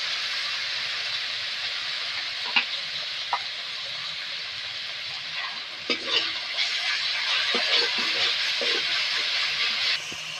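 Tomato goes into a hot frying pan of oil and spices for aloo dum and sizzles loudly, with a steady hiss, a few soft scrapes from stirring and the spatter building slightly toward the end.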